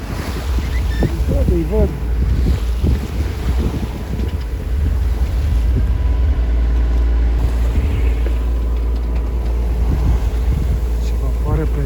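Sea waves wash steadily around a sailing boat at sea on the way to Poland, a continuous broadband surge with wind buffeting the microphone and a low engine-like rumble beneath, while a person speaks briefly over it.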